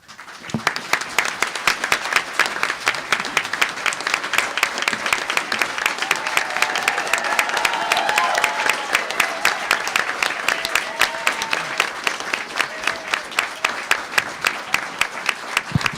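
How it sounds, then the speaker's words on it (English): Sustained audience applause fills the chamber at a town council inaugural meeting during a mayor's chain-of-office presentation, a dense steady wash of many hands clapping that stays loud and even throughout. "You guys applauded too soon."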